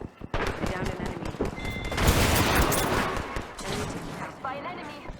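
Automatic weapon fire in Apex Legends rattles out in rapid, loud bursts, with a dense peak midway and scattered shots after, while a voice speaks through the firefight.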